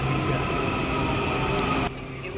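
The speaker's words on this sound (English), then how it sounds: "So we're in Springfield, Virginia to catch the subway into DC." A Washington DC subway train rumbles steadily with a loud, continuous roar. Its pitch and level drop partway through, with no talking.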